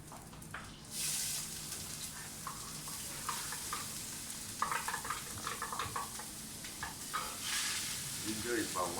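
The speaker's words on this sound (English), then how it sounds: "Need to fry the onion, the ginger first" Chopped onion and ginger sauté in a pan at a Singaporean chilli crab cooking demonstration, giving a steady close sizzle with stirring scrapes and light clatter throughout.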